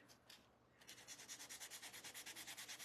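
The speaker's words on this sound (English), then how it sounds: "sand across, create some character" Close, steady back-and-forth strokes of sandpaper rubbing a wooden patriotic Americana spindle sign in a DIY framed craft project, with an even rhythm of about twenty quick passes and no voices.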